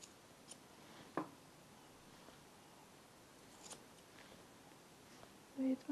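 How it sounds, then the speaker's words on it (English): Scissors trim the ear hair of a Shih Tzu during grooming, giving a few faint, sparse snips and light ticks close by in an otherwise quiet room. "With my scissors."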